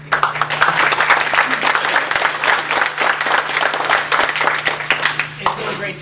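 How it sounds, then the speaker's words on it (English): Loud, sustained audience applause for staff at the Oakland Park LGA graduation ceremony in 2011, dense clapping that continues evenly throughout with a low steady hum underneath. "they deserve a round of applause for everything that they've done."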